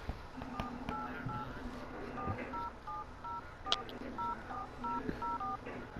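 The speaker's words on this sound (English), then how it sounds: "Who's dialing a number? I'm calling it right now." Phone keypad dialing tones beep in a quick series of short paired pitches, with soft background sounds and a sharp click partway through, in the video game GTA 5 Online.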